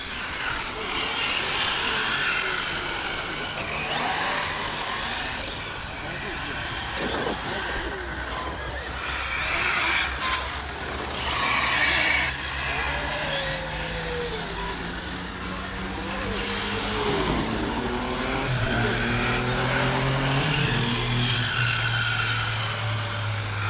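An RC stadium truck, a 4S 8000-class Stadium Maxx, runs on an outdoor track, its motor whining in rising and falling passes, some near and some farther off, over steady wind and outdoor background noise.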